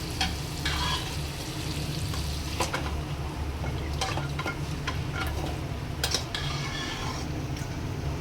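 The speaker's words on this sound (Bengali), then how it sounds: "এবার আমি এই মশলাটা মাংসটা এর মধ্যে দিয়ে দেবো।" Mutton with spice paste frying in a pan, a steady close sizzle running throughout, with occasional scraping and clacking from stirring and no talking.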